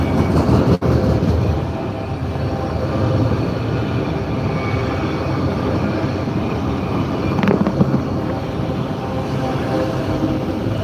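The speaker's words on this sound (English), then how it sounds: "It's a long train." A long train passing near a woodland path on a morning walk, a steady continuous rumble and clatter of wagons rolling by at close range without a break.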